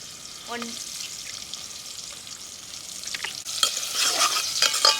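Chicken pieces frying in a pan for a bottle gourd chicken curry, a soft steady sizzle that swells louder and crackles toward the end, with a brief clink of stirring near the start.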